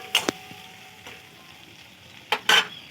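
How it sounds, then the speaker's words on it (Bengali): Poppy seed and mustard paste sizzles briefly in a pan, with a few sharp spatters and a soft stir or utensil scrape near the start and again near the end, over a faint steady background; no one speaks. "পোস্ত আর সরষেটা দিয়ে কিন্তু আমি বেশিক্ষণ কষাবো না।"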